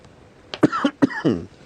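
A few sharp, close coughs in quick succession, harsh and throaty, with a short quiet lead-in before them.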